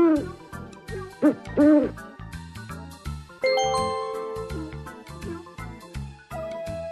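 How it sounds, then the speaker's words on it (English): An owl hoots in a children's night-time science story, with a few wavering hoots near the start set among tinkling, chiming music. "They saw an owl."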